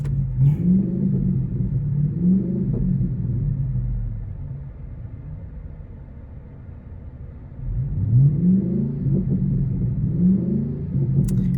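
A car engine revs loudly in deep, rising surges, eases off into a lower idle rumble, then climbs again.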